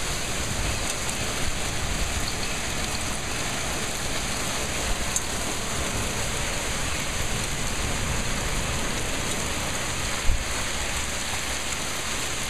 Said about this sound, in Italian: piove con una tale intensità che nessun tergicristallo è in grado di farti percepire neanche per un nanosecondo quello che sta accadendo oltre il vetro